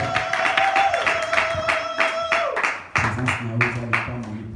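A church congregation claps together during a sermon, steady rhythmic clapping throughout, with a sustained tone and music-like harmonic sounds underneath and some voices mixed in.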